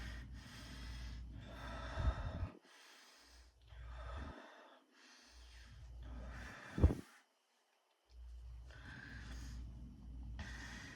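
Heavy breathing after exercise: loud, close inhales and exhales, some of them snorting or gasping, repeating in a slow, uneven rhythm with brief pauses between breaths.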